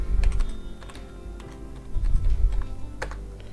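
Typing on a computer keyboard: a quick, uneven run of close, crisp key clicks and taps in short clusters, with no talking.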